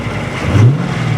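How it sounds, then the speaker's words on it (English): The engine of a 2015 Dodge Challenger Scat Pack Shaker gives a short, loud, close rev that rises, then settles back to a deep rumble. "This is the 2015 Dodge Challenger Scat Pack Shaker."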